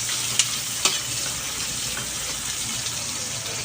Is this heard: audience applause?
no